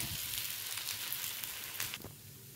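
A cassava dosa sizzles and crackles in oil on a hot pan just after being flipped, a short, close, steady hiss that fades near the end.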